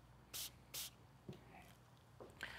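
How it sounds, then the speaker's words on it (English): Two quick, bright bursts of paint prep sprayed from a trigger bottle straight onto a paper towel during car detailing, close and crisp, followed by faint handling rustles. "I'll spray the paper towel directly."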